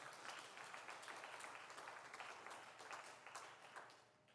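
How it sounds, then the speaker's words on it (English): An audience at a leadership awards ceremony applauds with a dense, steady patter of clapping that fades off at the end. "Can we give them an applaud, please?"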